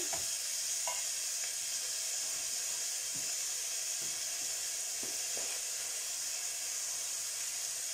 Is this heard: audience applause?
no